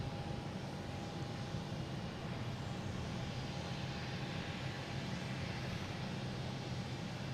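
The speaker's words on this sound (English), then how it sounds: "they have a JetBlue taking off, heading to Austin" A JetBlue airliner taking off from Boston Logan International Airport, its engines giving a steady, fairly distant roar that holds evenly throughout with no voices.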